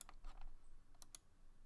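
Someone typing on a computer keyboard at a sim racing setup, a quick burst of several close, crisp key clicks, faint and alone with no talk.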